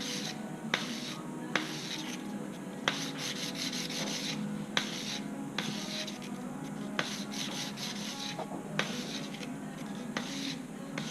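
Sandpaper rubs against the seam of a silver band ring in quick repeated rasping strokes, close and steady, with a soft scratchy rhythm of short passes.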